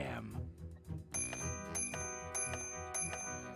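Bicycle bell sounds in the video game Day of the Tentacle: several bright, ringing dings repeat over a background of game music, with a voice talking briefly at the start.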